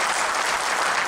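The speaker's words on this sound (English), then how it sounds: "ज़रा clapping आपके लिए मेरे दोस्त, very good." Audience applauding at a leadership lecture, a dense, steady wash of clapping from many hands that holds evenly and fairly close throughout the short stretch.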